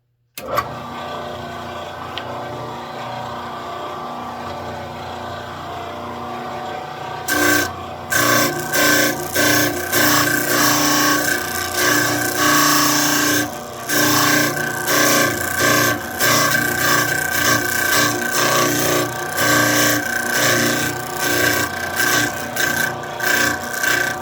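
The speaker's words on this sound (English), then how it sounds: "So we're going to turn the sander on and sand these down to 2 inch." Sander running against wooden wheels, sanding them down to 2 inches; a steady motor hum, then from about seven seconds a loud, rapidly pulsing abrasive rasp of wood on the belt, close and alone without talk.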